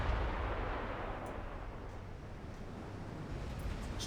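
Deep, rolling rumble of 16-inch naval guns firing in a warship battle in Ultimate Admiral Dreadnoughts, a broad, heavy boom that fades into a sustained low roar, with no voices.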